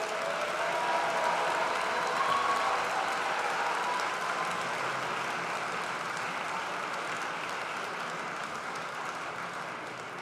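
Applause from a large crowd at a French political rally in Angers, a dense, steady wash of clapping that slowly fades over about ten seconds, with no voices on top.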